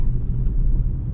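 A car engine runs steadily after a shift into third gear at low revs, heard from inside the cabin as a constant low rumble with no talking.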